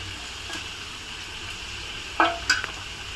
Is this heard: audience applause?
no